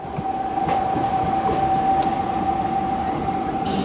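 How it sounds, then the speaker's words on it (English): A Montserrat Rack Railway train runs in mountainous Catalonia, a steady rolling rumble carrying a sustained whining tone, with faint clicks over the track throughout. "that brings us here to the Montserrat Rack Railway"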